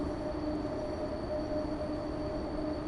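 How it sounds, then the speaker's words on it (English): Class 90 train rolling on rails in a train simulator game, a steady rumbling run with a thin high rail squeal sustained throughout, loud and continuous with no voices. "I also like the rail squealing"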